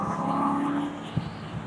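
A 2009 Aston Martin Vantage with a 6-speed manual being driven, its engine note steady and strong through a gear, then easing off with a brief thump.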